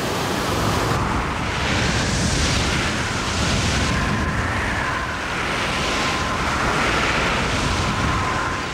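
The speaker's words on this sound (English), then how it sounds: "the fierce winds drive him back to our shelter" Fierce typhoon winds during Typhoon Maemi in South Korea roar as a dense, continuous blast of noise with slow surging swells in strength, loud and close throughout and free of speech.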